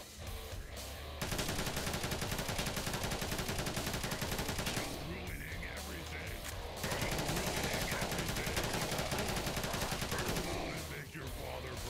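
Continuous gunfire and rocket launches in a video game battle, long rattling bursts of automatic shots with short gaps between volleys, fairly quiet overall, with someone talking intermittently over the shooting.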